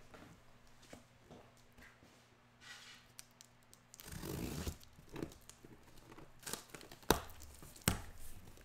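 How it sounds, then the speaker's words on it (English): A Prizm basketball card retail box is cut open, with faint scraping and a burst of tearing cardboard and plastic, then scattered crinkles and sharp handling clicks, close and quiet. "So go ahead and get this cut open and get started."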